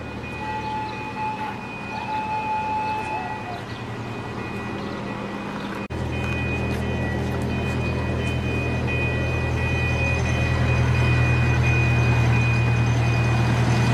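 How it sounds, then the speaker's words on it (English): A train rumbles past near a zoo aquarium setting, a steady low roar that swells and grows louder after a few seconds, with a faint tonal hum riding above and no talk. "Here comes the train."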